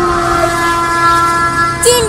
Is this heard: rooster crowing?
no